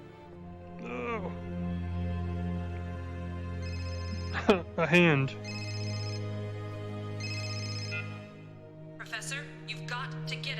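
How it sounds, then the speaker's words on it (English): A cell phone ringtone in the Serious Sam VR video game chimes in three repeated bursts over a steady musical drone, with a voice and other brief voices speaking around it. "I hear a cell phone."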